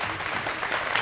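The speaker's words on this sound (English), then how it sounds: "Let's give Chesney a round of applause for showing her heifer that night." Audience applause for Chesney after she showed her heifer at the Saturday night shootout at the State Fair: a dense, steady wash of many hands clapping, moderately loud, heard alone through the brief stretch.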